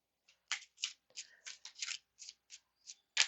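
A stiff deck of tarot cards being shuffled in a series of short, crisp riffles and slaps, close and fairly loud, with brief pauses between bursts and no voice.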